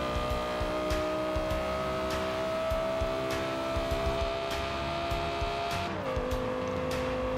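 An Audi R8 V10 engine drones at high speed in the racing game Forza Horizon 2, one steady loud tone with a shift down near the end, no speech.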